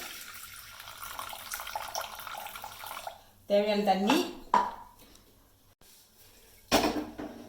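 Water is poured into a pressure cooker holding soaked green gram in a home kitchen. After a quiet stretch come two short splashing pours with a bit of metallic clatter, and a voice is present.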